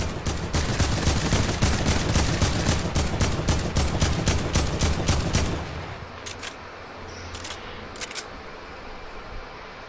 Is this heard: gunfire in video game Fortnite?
yes